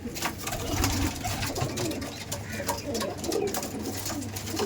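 Pigeons in a loft coo in low, throaty, overlapping calls at close range, forming a continuous murmur with scattered rustles and flutters.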